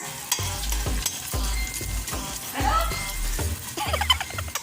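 Ginger stirred and frying in a pan for a chicken curry, a steady sizzle with repeated scraping stir strokes close by, no talk over it.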